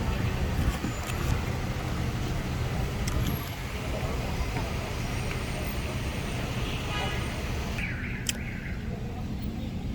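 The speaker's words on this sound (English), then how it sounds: "you can't be in the rush of this traffic" Steady street traffic rolls past outside a clinic in the Dominican Republic, a dense wash of car and bus noise with a brief horn-like tone near the end, close and continuous, with faint voices underneath.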